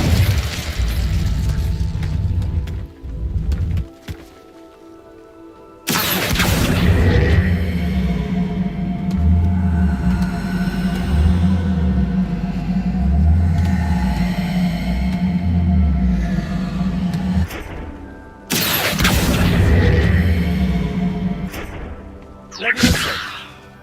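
An Incendio fire spell is cast in Hogwarts Legacy, with loud whooshing, roaring bursts and thuds that break off suddenly into near-silence before the blasts resume.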